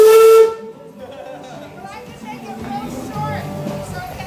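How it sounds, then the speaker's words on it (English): A sharp, loud steam whistle on an antique steam engine blows for about half a second, and then hissing and the chatter of children playing continue in the background. "That's the rope for the whistle."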